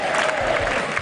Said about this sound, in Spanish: un salón de actos repleto de expectación, en el que sonaban aplausos y gritos